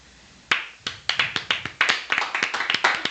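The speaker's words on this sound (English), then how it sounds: "I keep hearing other clapping in the background" Clapping sound effect in the background, a run of sharp hand claps starting after a short quiet moment and repeating in an uneven rapid rhythm, loud and close with no talking.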